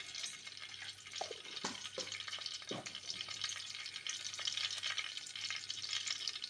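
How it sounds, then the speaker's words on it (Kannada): Cumin seeds fry in hot ghee in a pan, a soft continuous sizzle with crackling and a few stirring scrapes, close and fairly quiet. "ತುಪ್ಪ ಬಿಸಿ ಆದ ನಂತರ ಅದಕ್ಕೆ ಸ್ವಲ್ಪ ಜೀರಿಗೆ,"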